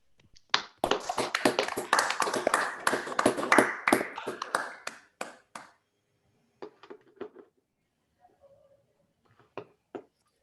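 Remote lecture attendees clap over their unmuted microphones, a dense burst of hand claps for several seconds that thins into scattered, sparse claps near and far.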